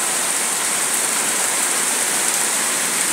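Heavy rain pouring down onto a rooftop slab, a dense, steady roar of large drops hitting close by and continuing without a break.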